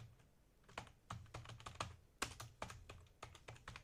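A name is typed on a computer keyboard in quick, uneven bursts of close, crisp key clicks, some strokes louder than others, with no voices.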